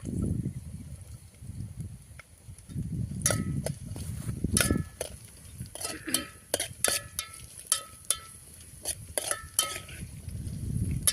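Raisins fry in ghee for sweet Sankranti pongal while a metal spoon scrapes and clinks against the pan, sharp irregular clatters over a low sizzle, close and alone without talk.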